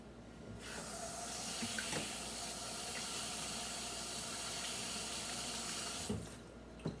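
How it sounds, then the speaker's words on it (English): A kitchen sink tap runs steadily as hands are rinsed under it, a close, continuous hissing water stream lasting several seconds before being shut off. "let me rinse my hands off"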